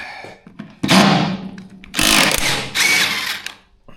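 A power drill whirs in three short, loud bursts while backing out two bolts on a Link & Sweep 600, with brief pauses and clunks between the runs.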